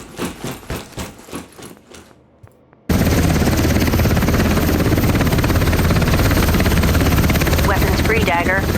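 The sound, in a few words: helicopter opening fire in video game Ground Branch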